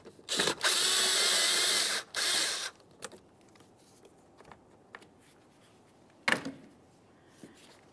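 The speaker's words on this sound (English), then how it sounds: "You're going to loosen this clamp. Let's use an 8mm for this." An 8mm socket on a ratchet loosens the air intake hose clamp at the air filter housing of a 2000-2006 Chevrolet Tahoe. A loud, close burst of rapid ratcheting runs for about two seconds, followed by a few faint clicks and one sharp knock.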